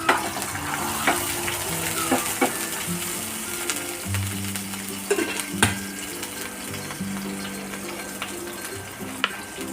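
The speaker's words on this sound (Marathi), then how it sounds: "लसूण बारीक चिरलेला दोन मिरच्या घेऊन बारीक चिरून घेतलेल्या आहेत त्या टाकायच्या" Finely chopped garlic and green chillies sizzle steadily in a hot pan for Marathi-style masala Maggi, a close, continuous frying hiss with occasional clinks and stirring knocks.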